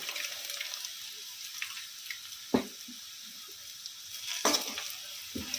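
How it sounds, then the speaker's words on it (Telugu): Eggs fry in a pan with coconut chilli powder. A soft, steady sizzling hiss is broken by a few sharp clinks of stirring, close by and without speech. "ఎగ్స్ అన్నిటికీ పట్టేలాగా బాగా కలుపుకొని వేయించుకోవాలి."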